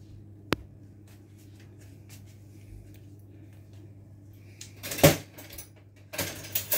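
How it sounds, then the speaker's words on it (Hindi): Cooked food being dished out with kitchen utensils in a home kitchen: scattered metallic clinks and scrapes of a spoon against a pot, sparse at first, then a louder cluster near the end, with no talk and a low steady hum underneath. "और अब मैं इसको डिश आउट करती हूँ और आपको दिखाती हूँ।"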